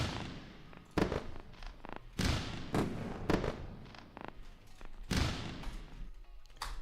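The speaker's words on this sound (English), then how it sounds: "And a round of fireworks for both winners today." Fireworks sound effect of repeated booming bursts and crackling, loud and close, going off in an irregular rapid series with no talking.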